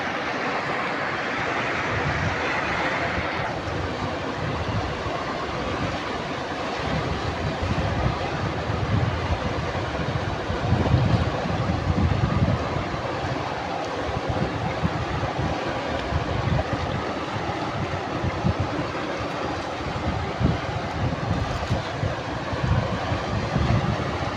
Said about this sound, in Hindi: देख रहे हो ना, पहले पानी कम था, अभी पानी बहुत तेज़ हो चुका है।